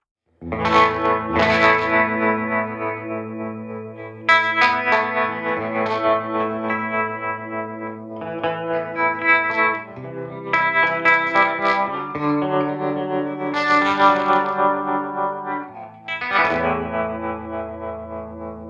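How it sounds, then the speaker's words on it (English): Electric guitar through a Universal Audio Ruby pedal playing chords and phrases with a chorus-like, slightly distorted tone and a short small-room reverb tail, no voices. "Love the small room reverb here as well."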